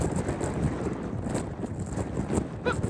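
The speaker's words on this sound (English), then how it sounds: "Very grateful that we just have 50-mile-an-hour gusts today." Strong 50-mile-an-hour wind gusts buffet the microphone on Franconia Ridge in rough, continuous bursts, with rumbling roar throughout and no voices.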